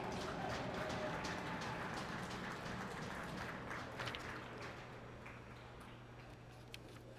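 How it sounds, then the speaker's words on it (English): Applause for a senior goaltender at an NJIT college hockey game in an arena: a distant, diffuse patter of many hands that slowly fades, with a steady low hum underneath and a few isolated claps near the end. "please give a round of applause to the goaltender, number 32, Kobe Pauletz"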